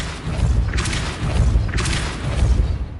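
A Depulso repelling spell cast in Hogwarts Legacy, heard as two deep booming thuds with whooshing bursts, close and loud over a steady low rumble.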